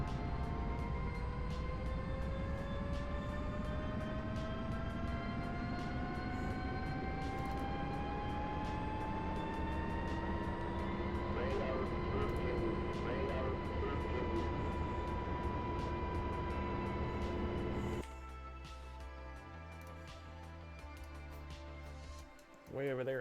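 Twin turbofan engines of an A-10C in a flight simulator spool up steadily, a rising whine climbing in pitch over a constant roar, then the tone shifts abruptly near the end; a voice talks faintly underneath.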